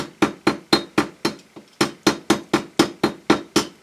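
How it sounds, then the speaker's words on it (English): A steel chasing hammer taps metal jewelry in a steady series of about fourteen crisp, evenly spaced strikes, close and clear, with one brief pause near the middle. "This is called a chasing hammer, and you just start working"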